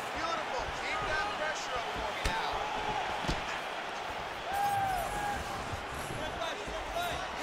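Punches land in a UFC 5 fight, heard as several dull thuds and sharp impact slams over crowd ambience, with a commentator talking throughout.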